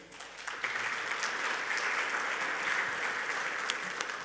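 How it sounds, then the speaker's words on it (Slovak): An audience at a 3D printing conference gives sustained applause, a dense even clapping that holds steady for several seconds at moderate distance with no one speaking over it. "Ďakujem za potlesk."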